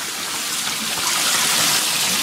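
Shower water runs steadily while a dog is bathed in a tub, a continuous close hissing spray with no pauses throughout.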